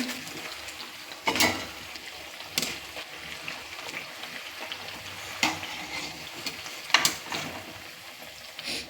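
Bottle gourd fritters bubble and crackle in hot oil with a steady hiss, broken by a few louder clattering bursts as they are turned or lifted; no one speaks.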